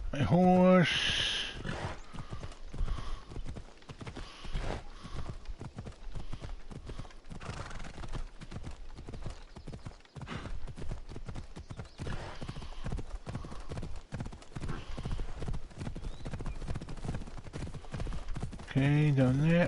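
Rapid, steady hoofbeats of a galloping horse in the video game Assassin's Creed Odyssey pound on for a long stretch, with a whinny at the start and near the end, loud and close.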